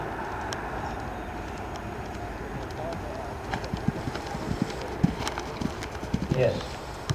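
Horse hooves thud and clop on an arena surface during a show jumping clinic session, irregular soft strikes growing more frequent toward the end, moderately distant, under steady background noise and occasional talk.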